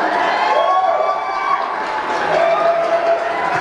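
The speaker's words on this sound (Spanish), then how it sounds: "A ver esos aplausitos, vamos." A live audience at a comedy show applauds and cheers in a dense, steady roar that stays loud throughout without any break.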